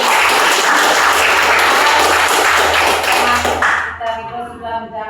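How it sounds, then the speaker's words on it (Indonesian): Audience applause in an economics lecture or classroom fills the first four seconds as steady, dense clapping, then fades out into quieter tonal room sound. "Mari kita tepuk tangan dulu."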